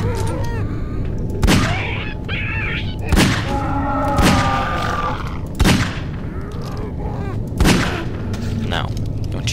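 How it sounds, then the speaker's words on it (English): Gunfire in the video game Nightmare House 2, four sharp shots spaced a couple of seconds apart over a constant ambient background hum. "I'm gonna use this gun."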